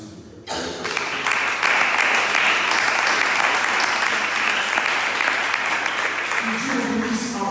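A church congregation bursts into loud, sustained applause after a sermon, with dense clapping that swells quickly and holds steady for several seconds, and a faint voice or music rising underneath near the end.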